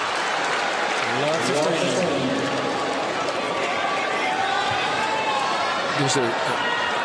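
A packed US Open tennis stadium hums with a loud, dense murmur of stunned spectators after a mishit winner in the 2006 second-round match between Agassi and Baghdatis, with nearby voices rising and falling inside the steady buzz.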